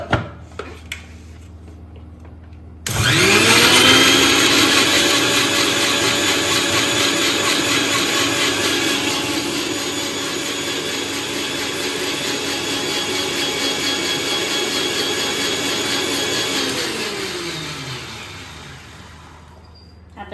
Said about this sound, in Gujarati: Okay, mixer.